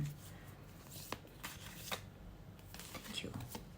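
Quiet papery riffling and soft slaps of oracle cards being shuffled by hand, several short bursts close by in a hushed room.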